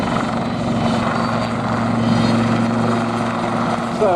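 A Lynx helicopter coming in to land at the Abingdon air show, its rotor and turbine producing a loud, steady droning whine with a sustained engine tone throughout.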